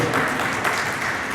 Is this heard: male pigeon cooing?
no